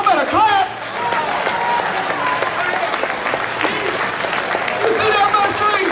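Audience at a lecture clapping loudly, a dense sustained burst of many hands with voices calling out over it, steady throughout with a brief dip early on and a swell near the end.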